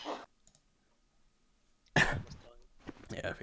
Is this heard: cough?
yes